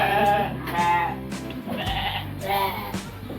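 Sheep bleat several times in a row, close by and fairly loud, with wavering calls separated by short pauses against farmyard background noise.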